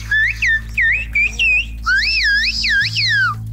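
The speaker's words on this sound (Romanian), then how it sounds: "Concurenții trebuie să învețe 14 fluierători, care se traduc prin diferite acțiuni." During a game show challenge, contestants follow coded signal whistles: a series of short, sharp whistled calls with rising and falling swoops, repeated in quick bursts over a low steady hum.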